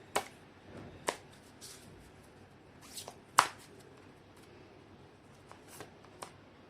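Tarot cards are shuffled by hand in a quiet room, with a handful of soft, brief riffling and tapping bursts spaced a second or two apart, close and fairly faint, with no voices.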